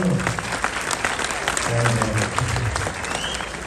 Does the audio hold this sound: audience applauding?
yes